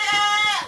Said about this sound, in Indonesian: Lihat kambingnya gemuk-gemuk.